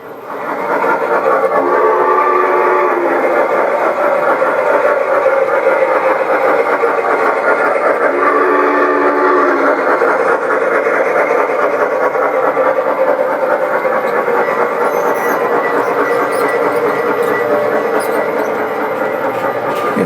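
G gauge 1/24 scale model train engines run steadily nearby, a continuous mechanical hum and rattle that holds level throughout with no speech.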